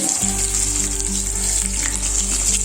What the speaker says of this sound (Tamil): கொஞ்சம் பொரியட்டும்